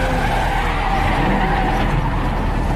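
A car rams a police car in a film chase scene, with loud screeching tires and a roaring engine in a continuous, dense burst.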